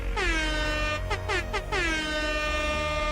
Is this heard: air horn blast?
yes